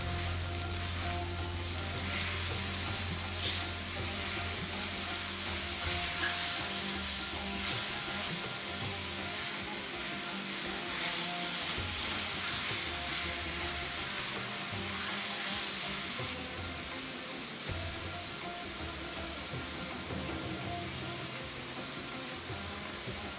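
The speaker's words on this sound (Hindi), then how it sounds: "चलो अभी हम ये चिकन को पकने के लिए एक पाँच मिनट के लिए छोड़ देंगे" Chicken frying in oil on a tawa, a loud continuous sizzle that stays dense throughout and eases slightly toward the end.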